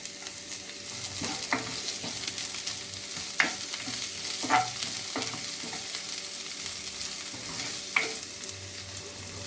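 Shallots fry with ginger in a pan for ginger rice, a soft continuous sizzle broken by occasional scraping taps of a spatula, fairly quiet and without talk.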